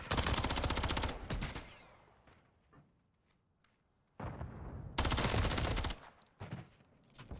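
Rapid bursts of automatic gunfire in Call of Duty, loud and dense, roaring for about two seconds, fading into a quieter stretch with scattered shots, then erupting again in long sustained volleys.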